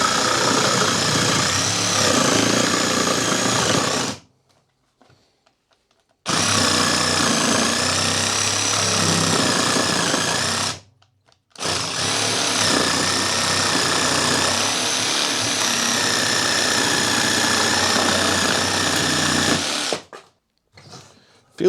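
An Evolution R90JGS cordless jigsaw runs in three long, steady cutting bursts separated by brief silences, its buzzing motor close and loud throughout.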